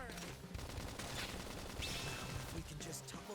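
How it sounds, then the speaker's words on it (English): Gunfire during combat in the video game Xenoblade Chronicles X, a dense burst of shots and impacts layered under game music, sound effects and voices. "We can just topple them with gunfire."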